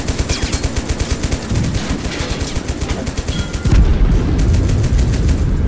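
Rapid machine gun fire in a World War combat video game, loud and close, a steady stream of fast bursts followed by a heavier rumbling barrage of continuous gunfire.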